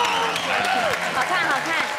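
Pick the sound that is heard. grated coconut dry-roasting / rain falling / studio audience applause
studio audience applause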